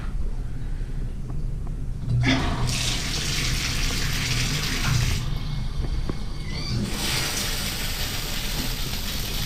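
Hotel shower head at a Doubletree by Hilton in Houston, Texas, hissing as the water stream jumps from a dribble to a full spray, with a loud continuous rush broken by brief pauses and adjustments.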